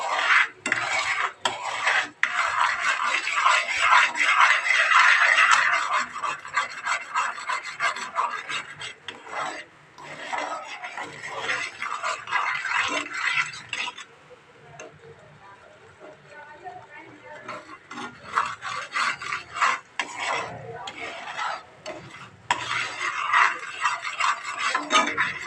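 A utensil scraping and rasping against a pan as a dish is stirred, repeated rough strokes that fade briefly midway and then pick up again, with a voice talking over it.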